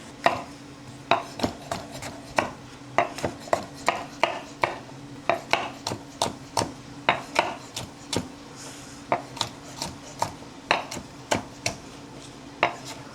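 A knife chops steadily through food on a cutting board, cutting it into serving-sized pieces, with about thirty sharp, close knocks in an uneven but continuous rhythm and no talking.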